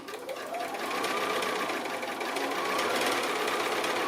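Sewing machine stitches fabric along a folded line with a close, continuous motorized whir and rapid needle chatter lasting the whole few seconds.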